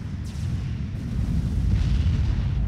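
A bomb explodes in the real-time strategy game Forged Alliance, a deep, rolling rumble that swells and sustains for a few seconds with a faint hiss on top and no voices.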